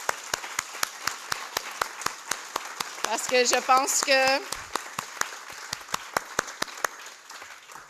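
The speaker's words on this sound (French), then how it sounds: "féliciter toutes les équipes avec un applaudissement." Applause fills a conference room at a knowledge-transfer event, steady rhythmic clapping from a group throughout, with someone speaking French over it partway through.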